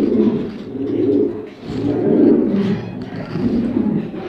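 A Spanish pouter pigeon, a male kept for sale, coos in deep repeated rolling phrases close by, with several swelling calls and no talk over them.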